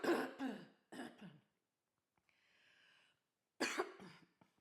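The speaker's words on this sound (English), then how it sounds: "I'm going to have to do a cough because I've got a" Harsh throat-clearing coughs come in two quick bursts, a quiet breath follows, then a final cough, all close and loud with no talking.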